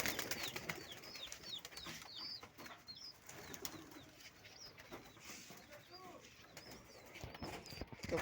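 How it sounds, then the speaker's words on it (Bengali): Pigeons released from a loft, with bursts of wing flapping and light chirps and coos scattered throughout, fairly faint against outdoor background noise. "তো সব কবুতরগুলো ছেড়ে দিচ্ছি।"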